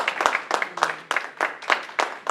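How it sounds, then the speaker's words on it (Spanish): A church congregation claps together in an offering of applause, producing sharp, evenly spaced bursts of claps in a steady rhythm. There is almost no talking. "el pueblo de Dios le da un aplauso de ofrenda"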